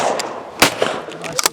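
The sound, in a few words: shotgun shot at a clay target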